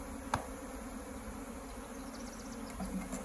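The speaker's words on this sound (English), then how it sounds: "Obviously, the bees don't really enjoy this process a whole lot." Honey bees from a package being shaken into a new hive give off a steady, soft buzzing drone that runs through the whole stretch, with a brief knock near the start.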